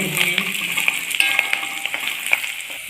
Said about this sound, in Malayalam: ഉള്ളി അരിഞ്ഞത് കൂടി ചേർത്ത് കൊടുക്കുന്നുണ്ട്